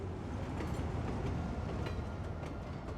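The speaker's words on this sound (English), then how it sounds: "here comes the train" A train rolls past in the city-building game Cities Skylines 2, a steady broadband rumble with faint rhythmic rail clatter, moderately loud and continuous, with no one talking.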